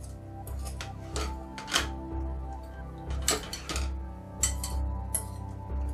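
Microwave scrambled eggs being dished up onto a plate, with a run of close clinks and scrapes of utensil against crockery coming in irregular bursts and short pauses.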